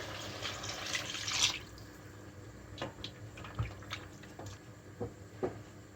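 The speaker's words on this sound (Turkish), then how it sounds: "Göz kararı suyunu ekliyorum." Water being poured into a pot while cooking tas kebabi: a soft splashing pour for about a second and a half, then quieter scattered drips and clinks, faint and close, with no talk.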